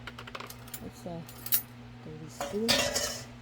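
A utensil stirs and pushes down garlic-infused honey in a glass jar, giving scattered light clinks and scrapes against the glass that grow into a denser, louder scraping toward the end.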